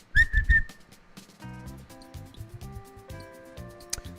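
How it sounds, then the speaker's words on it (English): A person whistles a short, bright tune in a few quick notes near the start, then soft jazz-style background music with light clicks carries on alone while mining in Old School RuneScape. "We're learning how to whistle in the stream."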